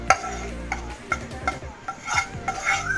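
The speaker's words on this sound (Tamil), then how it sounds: "இதை வந்து நான் சிக்கனோட சேர்ந்து கலந்து விட்டுக்க போகிறேன்" A spoon scrapes and clinks repeatedly against a pan as masala is stirred into chicken at home, irregular knocks and scrapes up close with a faint sizzle underneath and no talking.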